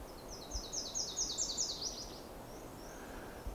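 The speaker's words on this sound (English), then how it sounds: "we have Swainson's thrush in the distance" A Swainson's thrush sings in the distance: a quick run of repeated high, bright notes lasting under two seconds, then quiet outdoor background with a faint extra call.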